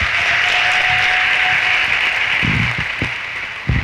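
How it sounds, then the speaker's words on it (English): Audience at a celebration event applauding, a sustained broad clapping roar that slowly thins toward the end, with a few low thumps and faint voices underneath. "Give yourselves a round of applause."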